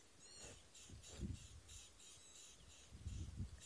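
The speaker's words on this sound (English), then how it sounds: "possibly figure out why on earth those birds are shouting like that" Birds squawk harshly from thick bush at a sunset safari, with faint repeated high calls overhead and a few louder low bursts, all heard from a short distance with no talking.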